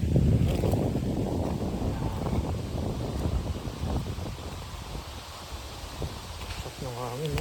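Strong wind buffets the microphone in the highlands, a loud, continuous rushing roar with gusty swells throughout, and a voice briefly heard near the end.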